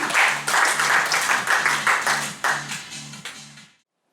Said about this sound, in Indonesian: kita berikan aplaus semuanya kepada trainer konsultan kita di hari ini